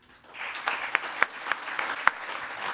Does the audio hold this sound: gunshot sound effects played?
no